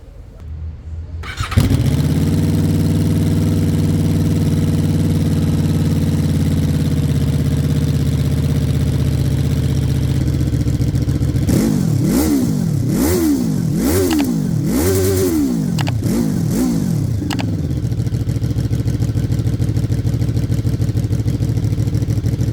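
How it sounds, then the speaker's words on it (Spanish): A QJ Motor SRV 600 V4 motorcycle engine cranks and fires up, settles into a loud steady idle, then is blipped through several sharp revs before dropping back to idle, close and unaccompanied by speech. "ya viene el sonido de esta moto hermosa"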